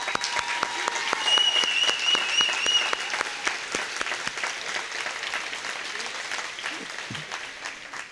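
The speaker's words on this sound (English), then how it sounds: "let's take a moment just to recognize the family and friends for their support with a round of applause." A graduation audience claps for the graduates' family and friends, sharp individual claps clearly audible within a steady round of applause that slowly thins out near the end.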